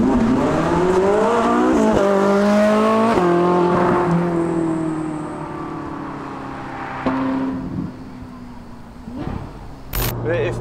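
Ferrari 458 Italia V8 engine in race mode, loud revs sweeping up and down in several surges with sharp shift cracks, then easing into a quieter lower drone with brief pops near the end.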